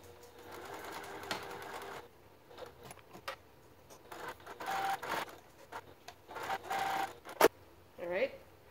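A sewing machine stitches around the edge of a fabric rectangle at about 2.5 stitch length, running in short bursts with pauses, close by, with a voice talking over parts of it.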